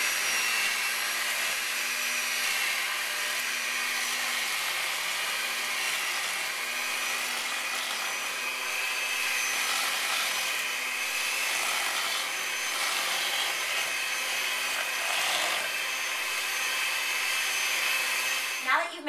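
A handheld electric mixer runs at low speed through cream cheese for brownies, giving a steady, close, continuous whir with a level hum that lasts the whole stretch, with no talk over it.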